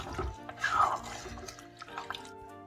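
Water pours and splashes into a bowl for a moment, fairly soft, with faint dripping and a low background hum.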